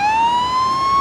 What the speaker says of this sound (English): That is our siren.